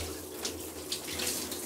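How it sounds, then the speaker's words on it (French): Running water from a shower in the Roblox Brookhaven game splashes in a steady, close hiss with no voices. "On dirait de l'eau qui coule."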